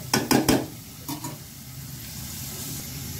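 Cooked lentils are poured into hot tempering oil, giving a few loud splashy sizzling bursts up front that settle into a steady, softer frying hiss, with no talking.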